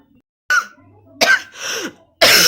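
Someone coughs in several harsh, close bursts separated by short pauses, with faint throat sounds between them.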